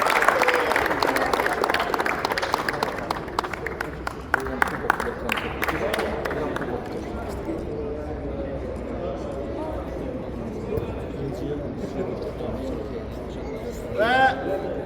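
A crowd in an indoor arena applauds the third-place team at a 40+ football championship final. The clapping is loudest at first and then thins out beneath an announcer's voice speaking without a microphone.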